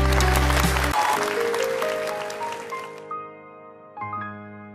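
Applause in a television singing-show studio after a duet, washing over the tail of loud music, then thinning out as the music fades and sustained tones return.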